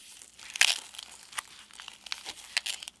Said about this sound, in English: there is quite a bit more grinding hinge noises than there were before, which is concerning